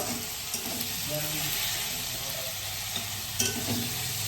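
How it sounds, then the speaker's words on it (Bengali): Potatoes fry in a pan with a steady sizzle that fills the clip, with a few faint clinks and stirring knocks; no talking. "আলু ভাজাটা করলাম"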